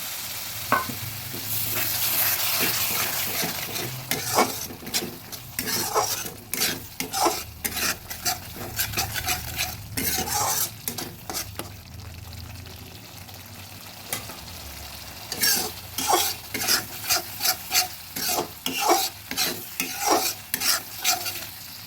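Ground spice paste sizzles in a pan while a spatula stirs it with added water for a boal fish curry, with bursts of frying hiss and repeated scraping, clinking strokes against the metal.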